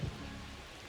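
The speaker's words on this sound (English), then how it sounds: "It feels like we might be headed towards a rain delay if the weather doesn't ease up, Chris." Rain falls steadily during a baseball game in MLB The Show 25, a soft continuous hiss with no pauses across a brief moment, heard without commentary.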